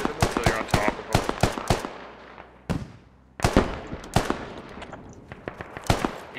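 Close, loud rifle and machine-gun fire in the military shooter game Squad, during mechanized infantry combat: rapid bursts of sharp cracks with a short lull midway before the firing resumes in quick volleys.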